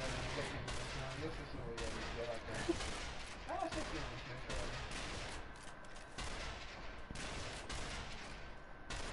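Gunfire in the zombie shooter game Zombie Army Trilogy, a dense, continuous rattle of shots and blasts filling the scene at moderate level, with a player's voice speaking faintly underneath.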